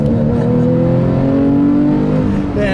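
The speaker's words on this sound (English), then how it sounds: "And another acceleration just for" A 2013 Porsche 911 Carrera engine revs up steadily under acceleration, its pitch climbing into the upper RPM range, loud and close throughout.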